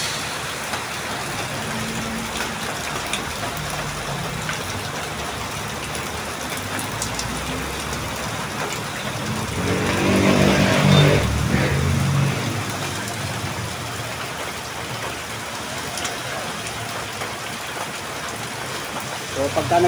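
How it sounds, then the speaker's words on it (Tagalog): Heavy rain pours steadily on a roof and ground, a dense even hiss throughout, with a passing vehicle swelling the noise briefly midway. "Kung matapos na ako maligo, lumakas naman yung ulan."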